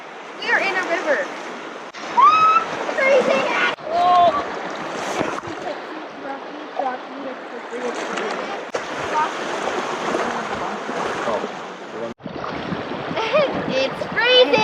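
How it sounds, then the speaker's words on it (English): People splash and wade through a cold river while hiking, with water sloshing and churning around them under excited, near continuous talk and exclamations. "We are in a river."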